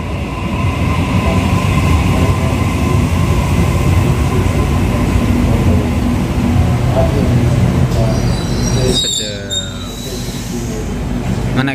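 A loud train rumbles steadily past close by for several seconds, its roar easing near the end as higher squeals and rattles come through.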